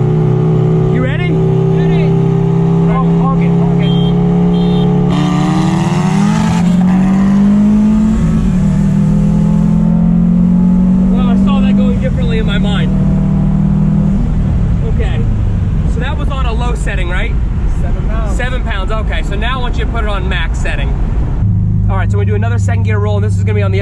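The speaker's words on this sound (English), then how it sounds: "we're gonna do a second gear roll with a bolt-on STI" Two cars, a Mazda Miata and a bolt-on Subaru STI, accelerate hard in second gear during a roll race, engines droning and climbing in pitch with gear changes, loud and continuous, with people talking over the engine noise.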